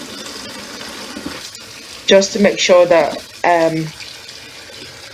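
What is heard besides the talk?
tap water running while washing chicken in sink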